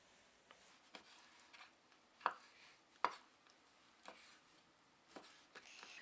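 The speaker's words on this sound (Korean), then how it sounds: "크기를 3cm, 3cm 크기로 잘라서 준비를 해주세요" A knife chops skin-on chicken into 3 cm pieces for kkanpunggi, giving sparse, quiet taps on a board, with two sharper knocks standing out among the softer cuts.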